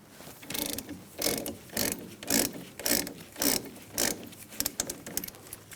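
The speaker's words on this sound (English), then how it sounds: "You're going to use a 7mm Allen wrench and take out these caliper bolts." A ratchet wrench with a 7mm Allen bit clicks in repeated bursts as it loosens the front brake caliper bolts on a 2004–2009 Mazda 3. The steady, close mechanical strokes carry on for several seconds without talk.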